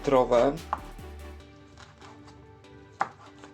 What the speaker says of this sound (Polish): śledzia kroimy w takie paseczki około 2